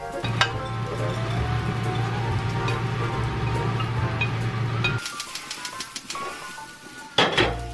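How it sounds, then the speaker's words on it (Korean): A spoon stirs vegan onion soup with bread and seasoning in a pot, giving soft clinks and scrapes over a steady sizzle, then quieter sparse taps and a louder clatter near the end. "소금 후추 중간중간 스푼은 계속 저어주세요."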